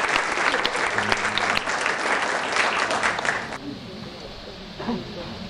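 Audience applause at an international poetry festival in Lithuania, a dense, loud wash of clapping that fills the first three and a half seconds, then drops to a thinner scattering of claps and murmuring.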